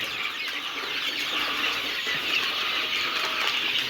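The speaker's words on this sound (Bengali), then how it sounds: "দেখেন আমাদের এখানে অরিজিনাল মিশরীয় ফার্মি।" A flock of Egyptian Fayoumi chickens at a poultry farm keeps up a dense, continuous chorus of overlapping clucks and murmurs, with no clear pauses.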